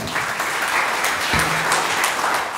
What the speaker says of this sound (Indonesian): Tepuk tangan kepada Tuhan.